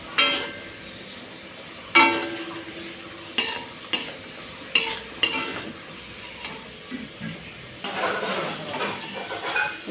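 Carrots frying in oil in a pan with a utensil scraping and stirring, sharp clinks and scrapes spaced across a soft background sizzle, ending in a busier burst of stirring.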